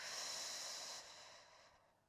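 Steady airy breath, in and out, close to the ear during a diaphragm massage, a long hissing exhale fading away over about two seconds.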